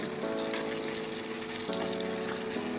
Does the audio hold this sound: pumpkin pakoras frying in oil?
yes